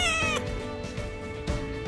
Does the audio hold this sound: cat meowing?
yes